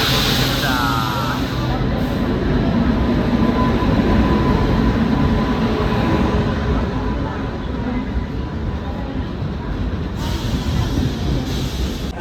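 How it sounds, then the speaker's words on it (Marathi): A train arriving at a station rumbles steadily close by with a constant low roar and rattling wheels, a brief squeal near the start and faint voices in the background. "ट्रेन आली."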